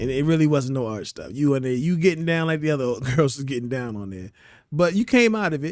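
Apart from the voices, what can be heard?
No distinct noise like a dog, phone or traffic.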